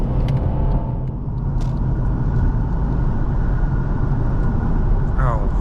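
A 2014 Mercedes E350d Cabriolet's diesel engine pulls hard under acceleration, a loud, steady low rumble heard from inside the car with road noise and a brief higher whine near the end.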